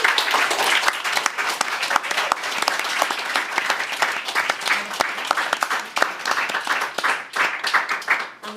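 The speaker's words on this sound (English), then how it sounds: "Please give them a warm round of applause." Sustained audience applause from a university round-table event on inclusivity in opera, dense steady clapping filling the whole stretch at fairly close range with no talk over it.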